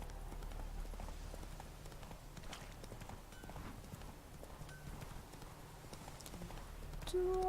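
In a fantasy video game, a horse carrying a griffin head hanging from its saddle clip-clops along at an even trot, soft repeated hoof strikes over a low steady drone, with a brief tonal game sound near the end.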